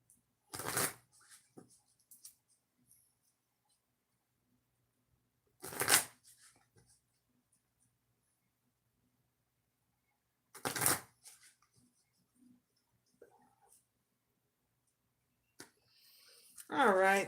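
Cards shuffled in three short, crisp riffles spaced several seconds apart, close up, with faint murmuring and quiet handling between them.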